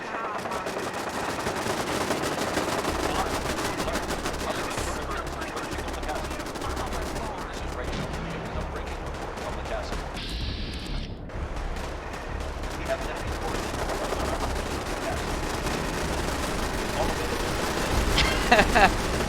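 Defensive turrets in Fallout 4 blast away at incoming Brotherhood vertibirds: a dense, continuous barrage of rapid machine-gun bursts and heavier booming shots, loud and unbroken, swelling slightly toward the end.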